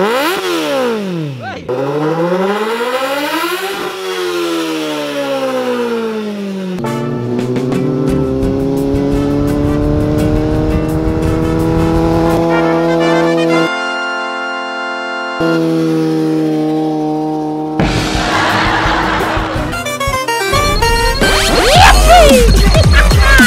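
A Kawasaki Z800 big bike's exhaust revs hard again and again with a skewer of mala meat pushed into the tailpipe, engine pitch swooping up and down, loud and close, with a steadier high-revving stretch in the middle.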